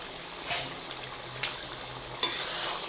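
Garlic thokku sizzles and fries in a pan as a spoon stirs it, a steady crackling hiss broken by a few scraping strokes and taps against the pan, with no talking.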